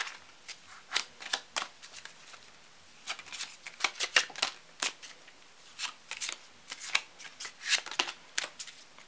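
Romance angel cards are shuffled by hand in quick repeated riffles and slaps, crisp and close, forming irregular bursts with brief pauses in a quiet room.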